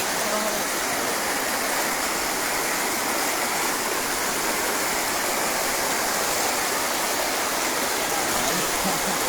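Floodwater rushing through a village in Bangladesh during a severe flood, a loud, steady broadband roar of churning water that holds constant and close throughout, with no voices over it.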